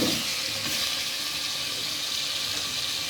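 Chicken pieces dropped into fried masala sizzle in the pan for chicken tindy, giving a steady, loud, broadband hiss that holds without a break.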